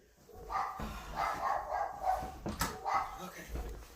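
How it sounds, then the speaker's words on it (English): A neighbour's dog next door barks and yips repeatedly in short bursts from a moderate distance, with a few whimpering notes between the barks. "that's the dog next door"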